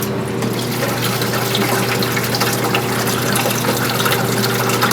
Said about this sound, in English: Right now we're just going to go ahead and drain the sanitizer out.